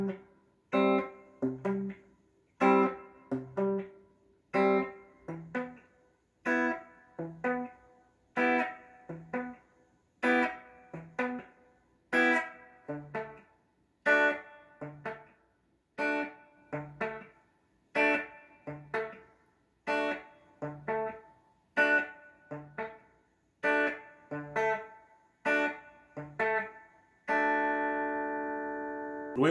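Guitar slowly picking through a song at a measured pace, a steady run of evenly spaced notes and chord hits that ends on a held, ringing chord. No voices, just close, moderately loud playing.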